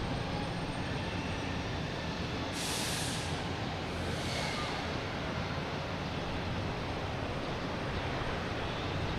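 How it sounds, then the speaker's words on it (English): A JetBlue Airbus A220 airliner arriving at Boston Logan from Norfolk, coming in to land as a broad steady jet roar, with brief higher whooshing swells partway through. "next to come in is an A220 JetBlue coming in from Norfolk"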